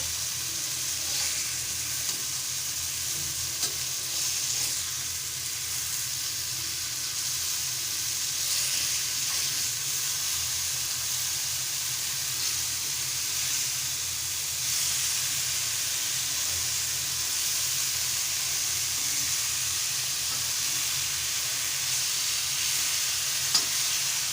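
Bombil fish frying in a pan of hot oil in Malvani style, giving a steady close crackling sizzle with light stirring and turning sounds throughout, no voices.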